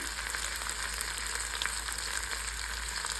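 Jackfruit seed curry with salt and turmeric frying in a pan, a steady close sizzle with a faint crackle, constant and uninterrupted with no voices.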